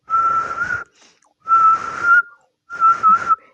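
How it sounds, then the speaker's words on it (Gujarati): Mouth whistling in three separate bursts with short pauses between them, each a clear steady tone, close and alone with no talk. "આપણે મોઢેથી પણ સિસોટી વગાડીએ છીએ."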